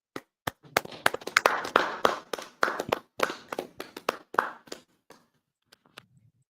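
A small group claps in bursts at a gathering, sharp hand strikes landing in uneven rhythm, close and fairly loud, thinning into a few scattered claps before stopping.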